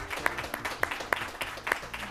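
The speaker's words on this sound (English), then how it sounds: "All of you, give yourselves a round of applause here." Audience applause after an elementary-level science bowl match between Oxon Hill and Whitehall, scattered claps in a fairly loud room, individual sharp hand claps punctuating a modest clapping crowd.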